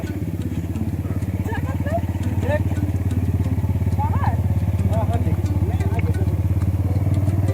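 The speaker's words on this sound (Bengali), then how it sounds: "এখানে এটিভি রাইড চলছে।" ATV engines idle and rumble on the road at Deolo Park in Kalimpong, a steady close engine throb with light clatter, birds chirping faintly in the background.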